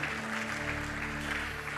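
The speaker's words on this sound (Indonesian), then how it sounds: "Berikan tepuk tangan yang meriah buat Tuhan." A church congregation claps loudly during a Christmas service, a dense, steady wash of applause over sustained musical tones from the worship band.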